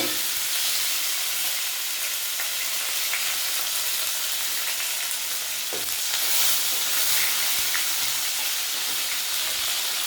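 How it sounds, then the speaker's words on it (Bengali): Chopped tomato fries in hot oil seasoned with cumin seeds for egg curry, giving a loud, continuous, hissing sizzle close up with faint stirring clicks and no speech. "এই তেলে আমি দিয়ে দেবো টমেটো কুচিটা"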